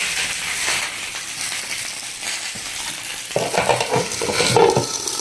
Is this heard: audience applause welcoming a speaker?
no